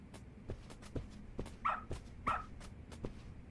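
Dog giving two short, sharp yips or barks amid a series of soft, regular footsteps or taps, all fairly quiet and close by.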